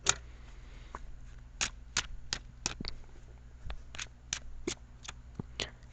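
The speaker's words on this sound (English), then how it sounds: "So I'm going to shuffle the cards." Tarot cards being shuffled by hand, a run of crisp, quiet riffling bursts in an irregular rhythm over a low steady hum, with no talking.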